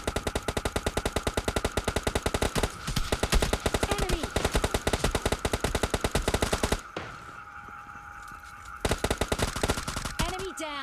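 Rapid bursts of gunfire from a PUBG Mobile Lite match, S12 shotgun and M4 rifle, loud and dense for several seconds, a short lull, then another burst near the end.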